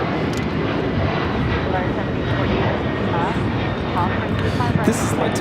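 Boeing 767-300ER jetliner on its takeoff roll at Los Angeles airport, bound for Lima: a loud, steady broadband engine roar that holds for the whole stretch, with a voice talking over it.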